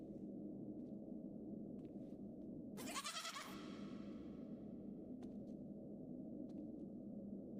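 A single goat bleat sound effect, a wavering cry of about half a second, rings out over a quiet low background hum during a tabletop role-playing session.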